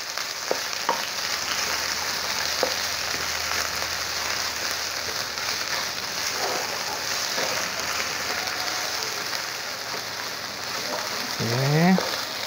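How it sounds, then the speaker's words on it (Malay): Aromatics for duck curry sauté in a pan, a steady soft sizzle with a few stirring clicks and a brief scraping sweep at the end, moderately close, with no voices. "Kita tumis dulu bahan tu sampai dia mengeluarkan bau."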